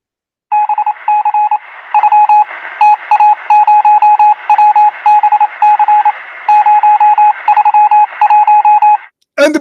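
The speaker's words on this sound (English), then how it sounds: "in certain countries they used to use something called Morse code" Morse code beeps from a radio-style tone sound loud and steady in rapid rhythmic dots and dashes, continuing for several seconds before cutting off abruptly.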